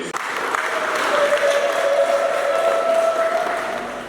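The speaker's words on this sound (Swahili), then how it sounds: "Kwa tunapiga makofi na vigelegele tunapoitikia Yesu." A congregation at a Catholic Mass for the Sacred Heart feast claps steadily for about four seconds, with a sustained high ululating trill running through the applause.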